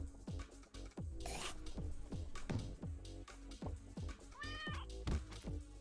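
Cartoonish meows and scratchy rasping from a giant cat enemy in the game Turnip Boy Commits Tax Evasion, set over a rhythmic thumping music track with a rising swoosh and a warbling effect.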